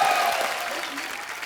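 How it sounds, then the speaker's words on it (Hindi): Studio audience applause on The Kapil Sharma Show, a dense, steady wash of clapping that stays fairly loud throughout and tapers slightly toward the end, with no clear speech over it. "टाइमिंग के लिए जोरदार तालियां।"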